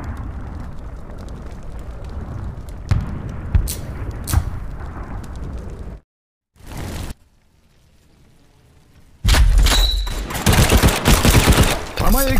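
A gunfire volley rings out in the World War II shooter game World War Heroes: sharp shots over a rumbling battle, a short break into near silence, then a loud closing burst of fire.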